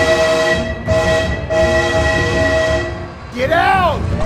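Loud, sustained train horn blasts in the BeamNG driving game, holding steady tones with brief gaps, then a bending, swooping horn tone near the end as the train passes close by.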